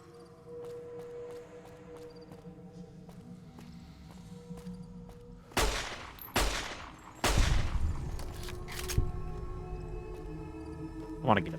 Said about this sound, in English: He's shooting something?